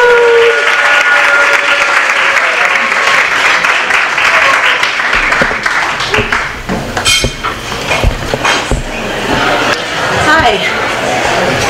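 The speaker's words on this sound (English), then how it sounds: "And keep that applause going for our first open micer, Simone Roberts." An open mic crowd applauds in a dense, loud wash of clapping that carries on throughout, while a host's amplified voice talks over it.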